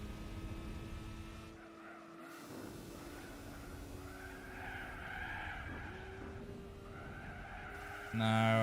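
Tires skid and squeal as a race car slides in Gran Turismo 4, a sustained engine and tire screech running continuously with shifting pitch, a voice briefly speaking over it, and a louder burst near the end.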